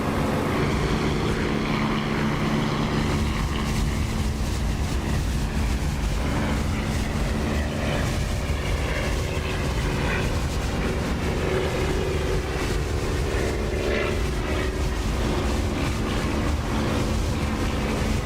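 Propeller aircraft engine running steadily with the cockpit canopy open in the DCS flight simulator, a loud, continuous droning roar with rushing wind noise, unbroken and close throughout.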